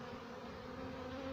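A honeybee swarm entering a hive in Bydgoszcz gives off a steady, faint buzzing hum with no talking.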